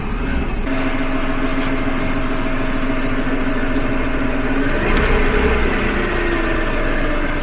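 A Renault Kwid car engine starts and settles into a steady idle, a continuous close mid-pitched hum with a faint rise around the middle and no voices.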